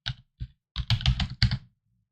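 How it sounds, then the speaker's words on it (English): Close computer keyboard typing comes in short irregular bursts of clicky keystrokes with brief pauses between them, alone and clear. "Let's type in auto-tune. I'll type it in."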